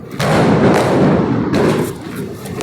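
A loud, sustained crackling burst of exploding Diwali firecrackers starting abruptly, with a second sharp burst midway, dense popping throughout.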